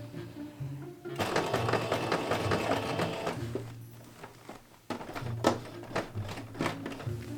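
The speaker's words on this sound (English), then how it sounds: "I am going to pin it and sew it from the outside" Sewing machine stitching through a thick leather jacket collar, running in bursts: a long steady whirring run, a pause, then shorter rapid bursts with clunks, loud and close.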